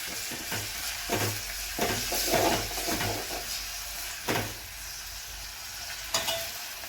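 Fish curry masala being stirred in a hot pan, with repeated scraping strokes over a steady close sizzle and hiss of frying.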